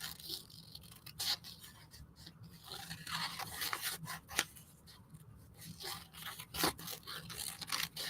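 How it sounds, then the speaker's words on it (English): Scissors snip repeatedly through paper as printed images are cut out for a collage, giving quiet, close, irregular crisp clips and rustling between cuts. "now I'm about to cut them out,"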